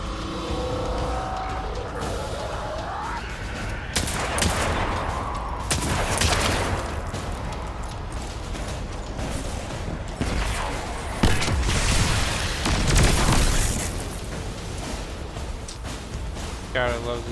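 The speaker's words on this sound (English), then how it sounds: "Gotta love these grenades." Grenade blasts and gunfire in the Destiny 2 video game, several booming bursts spread through a dense, continuous game soundscape with crackling shots and rumbling effects; a voice talks intermittently underneath.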